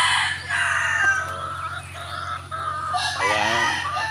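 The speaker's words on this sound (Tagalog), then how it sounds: "Daming manok." Roosters crow repeatedly over a busy chorus of clucking chickens, close and loud, with a steady low hum underneath.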